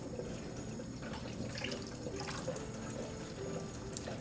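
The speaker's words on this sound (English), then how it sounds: "Just giving these a quick rinse so that they don't have any little shells on them" Tap water runs steadily into a sink while hard-boiled eggs are rinsed under it, a soft continuous splash at close range with faint drips and no talking.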